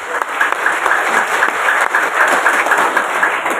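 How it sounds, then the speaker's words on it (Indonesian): Loud, steady applause from a crowd of vocational high school students fills the space, a continuous patter of many hands clapping without pause. "Tepuk tangan untuk semuanya."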